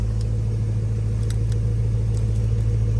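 A deep, steady Porsche Cayenne engine idle rumbling close by with a low exhaust drone and faint clicks, no speech.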